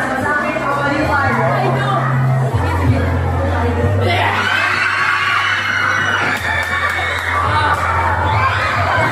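A crowd of students cheers, shouts and screams together, loud and sustained, with excited chatter running throughout.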